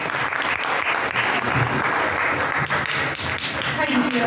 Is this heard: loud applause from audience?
yes